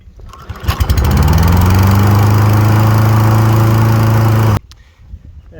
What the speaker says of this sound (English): So we'll get that started. So we'll let it run for a minute.